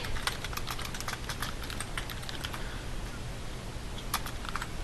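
Steady run of quick keystrokes on a computer keyboard while a reply is typed, the clicks close and fairly even in rhythm over a constant low background hum, with no talking.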